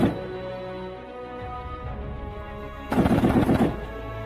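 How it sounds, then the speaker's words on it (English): Heavy machine gun fire during U.S. Marine amphibious assault operations on Okinawa, Japan: a sharp rapid burst of shots near the end, following quieter rumbling activity. "The addition of heavy machine gun fire supports maneuver to close with and destroy the enemy."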